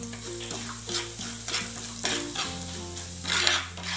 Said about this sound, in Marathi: आता हे सगळं एकत्र केलं होतं ते मंद आचेवर होऊ द्यायचं